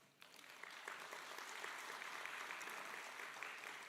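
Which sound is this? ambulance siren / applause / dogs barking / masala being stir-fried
applause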